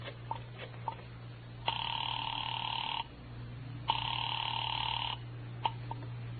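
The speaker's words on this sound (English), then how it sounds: "I dialed Bradshaw 711 and waited." Telephone ringing in a radio drama effect: after a few faint dial clicks, two long electronic rings sound in a steady on-off cadence, each lasting about a second and a half, over a low hum.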